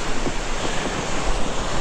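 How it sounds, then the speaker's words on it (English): Ocean swells and surf rolling in on a rainy winter shore, a steady broadband wash of waves close by with some wind noise, no voices. "Swells are starting to pick up."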